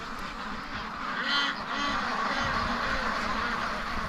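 Several ducks in a free-range pen quack and call close by, a busy overlapping chorus with a person talking briefly in between.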